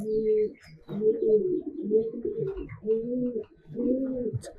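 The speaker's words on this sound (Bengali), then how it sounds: "তো এখানে খুব সুন্দর একটা কবুতর আছে, একদম মায়াবতী একটা কবুতর।" Pigeons coo in a loft in Munshiganj, giving a close, repeated run of throaty rolling coos with short pauses between each phrase.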